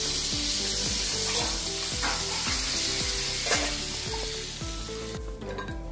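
Hot tempering of turmeric and Kashmiri red chili powder poured over Sindhi kadhi, giving a loud, steady sizzle with stirring that runs the whole time, alone and with no talk.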